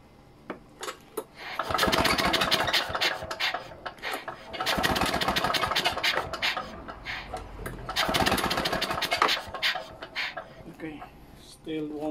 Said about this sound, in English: let's try to start the engine